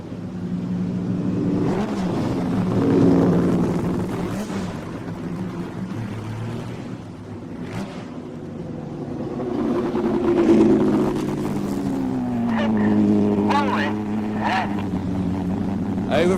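Red Arrows jet aircraft in a flying display at the Goodwood Festival of Speed produce a continuous rumbling roar that swells and fades as they pass, with a commentator talking over it.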